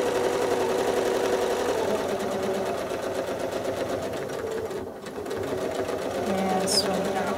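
A sewing machine runs steadily and fast while travel stitching along the edge of a quilt, a continuous close mechanical whir with a brief dip midway and a voice talking over it.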